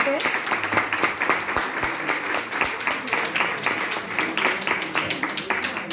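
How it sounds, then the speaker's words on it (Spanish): Sustained audience applause from a lecture crowd, a dense rapid patter of many hands at steady volume throughout, with voices faintly mixed in. "Un aplauso tremendo, primero para esta primera parte."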